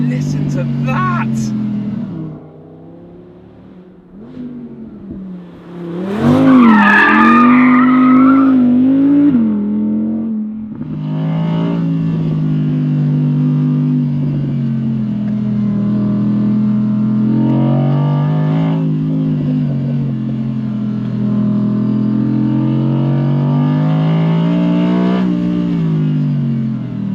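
Out on the road, an Audi R8 RWD Performance engine drones loud and steady as it builds revs, with a sharp surge partway through. A person talks over parts of the engine.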